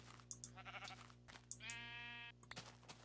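Sheep in the Minecraft video game bleat twice in quick succession, a clear nasal bleat with a longer wavering one after it, heard faint over a low steady background hum.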